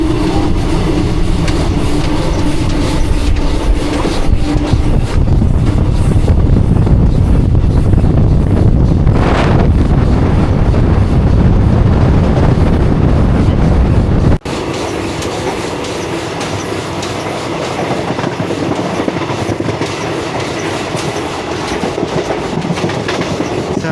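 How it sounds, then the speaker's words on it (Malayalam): Vivek Express, India's longest train running from Kanyakumari to Dibrugarh, roars past at close range with loud rumbling and clattering wheels under heavy wind buffeting, then cuts to a quieter steady rolling hum. "കന്യാകുമാരിയിൽ നിന്ന് ഡിബ്രുഗഡിലേക്ക് പോകുന്ന ഇന്ത്യസ് ലോങ്ങസ്റ്റ് ട്രെയിനായ വിവേക് എക്സ്പ്രസ് ആണ് പോയത്."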